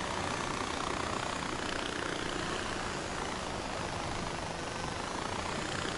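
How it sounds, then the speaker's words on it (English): Helicopter in the Far Cry 4 video game flying, a steady, dense whirring engine and rotor drone that holds at an even loudness throughout with no voices. "Let's take the chopper."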